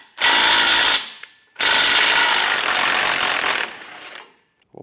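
A power tool, likely an impact or air ratchet fitted with a 21 millimeter socket, spins a bolt out of a Blue Ox base plate in two loud, close buzzing bursts with a short pause between.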